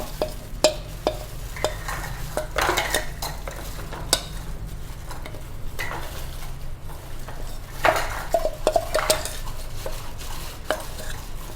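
Chocolate lava cake batter is mixed by hand in a bowl, with the utensil scraping and tapping against the bowl in a steady run of stirring, close up and with no talk.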